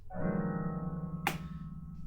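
Sustained bowed orchestral violins and violas, each on a separate note, hold a dense, clashing cluster chord, with a short sharp knock partway through as the chord rings on.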